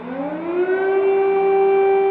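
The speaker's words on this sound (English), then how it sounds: "As air raid sirens rang out across Kyiv" Air raid sirens wail across Kyiv, a loud sustained civil-defence tone rising at the start and then holding steady and continuous, with no voices.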